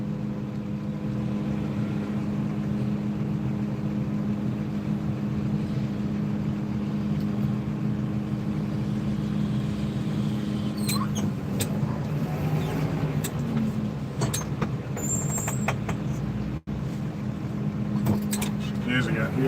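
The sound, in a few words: road traffic driving past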